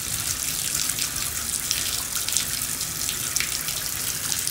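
Steady broadband rush of shower water running close by, loud and continuous without pause, with no voices over it.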